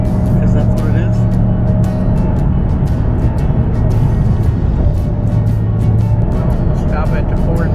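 A Ford GT500 with new control arms drives along with a steady drivetrain whine over a loud road and engine rumble, while people talk inside the car.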